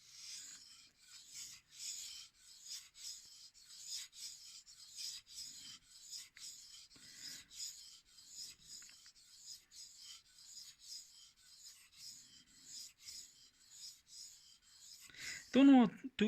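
A kitchen knife is stroked along a Cerax 1K/6K whetstone in a steady, rhythmic rasping scrape that continues almost without a break, fairly close and moderately quiet, with a short louder knock right at the end.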